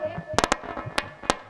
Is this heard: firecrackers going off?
yes